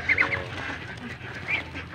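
A young Muscovy duck calls with a few short, high, reedy peeps and honks close by, the first cluster coming quickly and another following after a brief pause, with low background noise.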